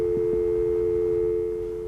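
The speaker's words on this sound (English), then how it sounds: "a tone generator sends dial tone through the switch hook and to the receiver" A steady, continuous telephone dial tone hums evenly, with a couple of faint clicks near the start, fading slightly at the end.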